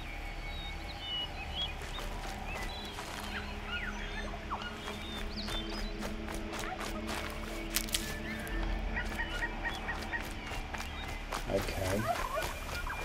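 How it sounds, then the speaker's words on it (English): A turkey gobbles inside a video game, its calls rising over a dense ambient bed of crackling and clicking game noise at steady volume. "We've got a turkey."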